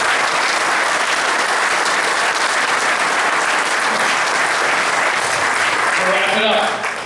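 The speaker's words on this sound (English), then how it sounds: "So let's have a round of applause for those people right there." Loud, sustained applause fills the room at an athletic Hall of Fame ceremony as committee members are thanked, a thick continuous roar of clapping that tapers slightly near the end, with a voice emerging underneath.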